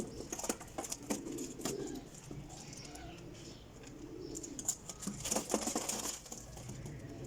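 Teddy breeder pigeon pairs coo softly in a loft, with low murmuring calls amid scattered taps and shuffling, fairly quiet and close.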